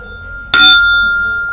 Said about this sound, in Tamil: இந்த பெல்லுக்கு பேர் வந்து வஜ்ராயுதம்னு பேரு